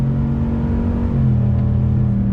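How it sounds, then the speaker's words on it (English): A 2021 Chevrolet Silverado RST pickup's V8 drones steadily through a Flowmaster catback exhaust on the highway, a loud, sustained low rumble that swells slightly as the throttle holds. "Catback exhaust, letting that engine scream, or I should say roar for sure."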